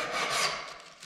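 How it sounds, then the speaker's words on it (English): Loose paint rasps off wooden door trim under the blade of a 5-in-1 painter's tool, one short, gentle scraping stroke heard up close and alone. "You can use a 5-in-1, be gentle."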